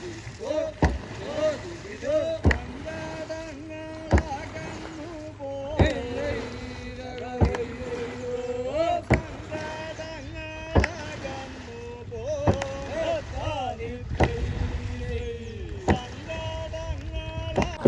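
Rhythmic paddling of a long wooden Aranmula palliyodam snake boat, regular splashing strokes over steady chanted singing from many voices, with water noise throughout.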